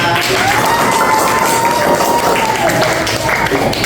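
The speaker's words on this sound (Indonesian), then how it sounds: "Tepuk tangan untuk kalian." A classroom of students claps in a continuous, loud patter of many hands that fills the room, with voices mixed in beneath the clapping.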